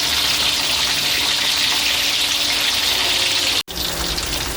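Loud, bright crackling of pork frying in hot oil, a continuous close sizzle with one brief dropout near the end.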